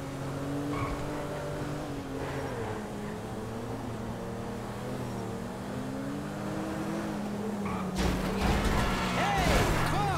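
Car driving in Grand Theft Auto V on PS5, a steady engine drone with a rising rev and gear shift near the end, heard under continuous talking throughout.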